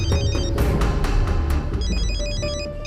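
A mobile phone rings with an incoming call, a loud, close, repeating electronic ringtone melody playing continuously with no voices.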